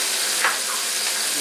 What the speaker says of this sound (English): go ahead and add the onion so it doesn't